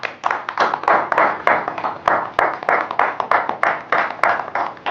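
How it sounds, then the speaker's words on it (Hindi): Clapping at an award ceremony: a small group applauds in a quick, steady rhythm of close, crisp hand claps, continuous for about five seconds without talk. "तालियां तो बजाओ।"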